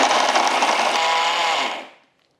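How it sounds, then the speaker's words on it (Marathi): A mixer grinder whirring at high speed as it blends jaggery with rice flour, loud and close, running steadily before winding down to silence. "बघा आता हे मिक्सरमध्ये फिरवलं की याला ऑलरेडी ओलसरपणा, उष्णतेमुळे ओलसरपणा आलाय"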